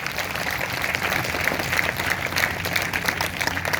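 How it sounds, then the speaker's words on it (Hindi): Congregation at a Sunday church service bursts into steady, dense applause that holds at an even level throughout, a sustained wash of many hands clapping with no talk over it. "अगर आई है तो जोरदार तालियां बजानी है।"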